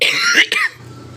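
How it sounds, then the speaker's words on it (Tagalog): A person with an irritated, scratchy throat gives a couple of harsh, close coughs in quick succession, the second short burst fading into quiet. "Umuubo ako na nangangatay na lamunan ko"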